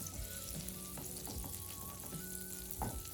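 Butter melts and foams in a saucepan on a stovetop, stirred continually while browning, giving a soft steady sizzle broken by repeated clinks and scrapes of the spoon against the pan.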